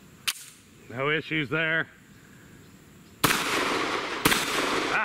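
Rock Island Armory Ultra FS 10mm pistol firing at an outdoor range: one sharp early shot, then two loud close blasts with ringing noise tails after a short spoken remark.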